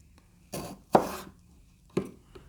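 A chef's knife chops through food on a board in a few separate strokes, close by, with quiet pauses between the cuts.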